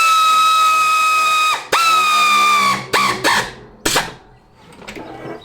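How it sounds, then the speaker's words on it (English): Air ratchet tightening a negative battery terminal on a classic Fiat 500, a loud pneumatic whine running in one long burst, then a second, followed by several short sharp bursts and fading hiss. "Now we can get our air ratchet back and just do this up nice and tight."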